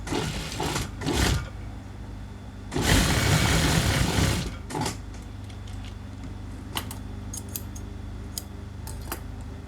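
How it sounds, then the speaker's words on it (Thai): A sewing machine stitches the elastic waistband of stretchy fitness leggings, running in two loud bursts near the start, then falling to quiet mechanical ticking and clicks. "เวลาจะเย็บเราต้องดันให้สุด ๆ นะคะ ให้ยางมันชนผ้าสุด ๆ"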